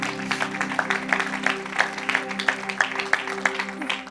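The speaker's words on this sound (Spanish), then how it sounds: "Dale un aplauso al Señor en esta hora." A church congregation claps together in a steady, rhythmic beat, about three claps a second, with a sustained voice or music humming underneath throughout.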